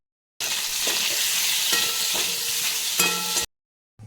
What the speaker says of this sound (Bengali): পটল ভাজা তেলটাতে আলুগুলো দিয়ে দেবো আলুগুলো ভেজে নিয়ে বার করে